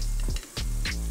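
Shredded cabbage thrown into a hot pan already holding mixed proteins, giving a loud, close, steady sizzle broken by a brief clatter and a fresh burst of frying.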